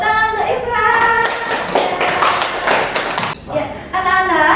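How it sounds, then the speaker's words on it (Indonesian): Schoolchildren in a classroom clap for a classmate, a burst of close, patterned rhythmic clapping mixed with children's voices and chatter. "Tepuk tangan untuk Ifras"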